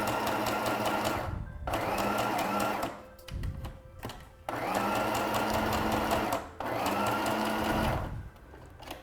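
A sewing machine stitches through paper for a handmade zine, running in three long steady bursts separated by short pauses and small handling noises, close and fairly loud.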